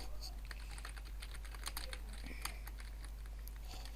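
Computer keyboard typing while entering text during a PC game download, a quick run of soft keystrokes with a few louder taps over steady low hum.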